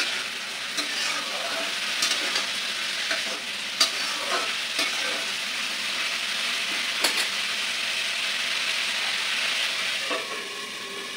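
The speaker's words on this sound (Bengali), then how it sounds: "ওর মধ্যেই ভাজা করে দিচ্ছিলাম আদাটাকে" Ginger frying in a pan for mung dal, a steady loud sizzle running throughout with occasional clicks and scrapes of stirring.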